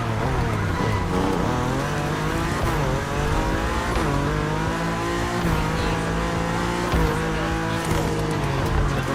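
Liberty Walk car driving in the racing game The Crew Motorfest, a loud continuous engine drone with shifting revs and tire noise throughout, close and steady with no pauses.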